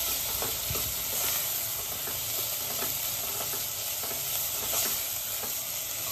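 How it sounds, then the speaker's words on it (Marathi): Vegetables and spices being stir-fried on a tava for street-style pulao, a continuous loud sizzle with occasional faint spatula scrapes mixed in. "सगळं छान एकत्र मसाले परतून घ्यायचे भाज्यांसोबत।"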